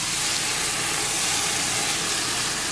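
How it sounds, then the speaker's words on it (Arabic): Shrimp teriyaki with onion, ginger and sauce sizzles on a hot sizzler plate, a steady, loud, close hiss that runs unbroken throughout with no talking. "أسخن صاجة السيزلينج عشان تسمعون صوت التشتشة لما نضيف الروبيان تبنياكي"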